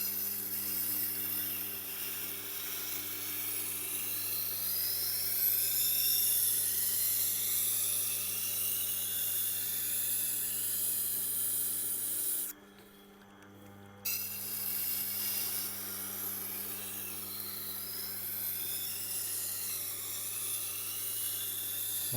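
A Global kitchen knife is ground on a Tormek Blackstone sharpening wheel, giving a faint, steady grinding hiss over a low motor hum, with a brief break in the middle before the grinding resumes.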